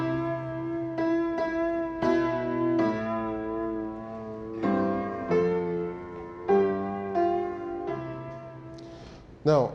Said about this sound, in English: And if I play the melody with the bass, it will sound like this.